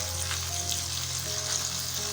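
Spices and turmeric for chicken haleem fry in a pan with a steady close sizzle and light crackle, with soft stirring scrapes, no talking.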